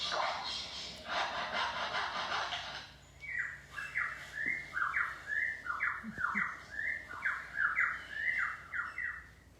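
A bird gives a rapid series of repeated squawking, whistled calls, fairly close, following a stretch of broadband hissing noise.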